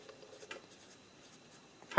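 A pencil writes the date on paper as faint, intermittent scratching strokes, close and quiet, ending with a brief louder tap or knock.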